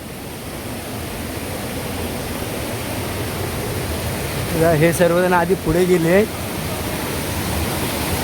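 Water pours down a cliff edge at Brahman Kada, a steady broad rushing roar throughout, with a voice speaking briefly partway through.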